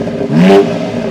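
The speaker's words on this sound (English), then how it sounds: "Very signature BMW M straight six noise." A short, loud blip of the S58 straight-six exhaust on a 2022 BMW X4 M Competition revving, rising and falling quickly over an engine rumble.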